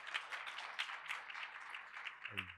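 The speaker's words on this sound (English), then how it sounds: "give him a round of applause again" A round of applause from the audience at a university teaching and learning festival award session, dense steady clapping at a modest distance that runs throughout, with a low hum rising near the end.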